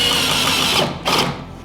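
A close power drill driving screws into a door jamb, whirring steadily, briefly pausing, then a second short burst of whining motor.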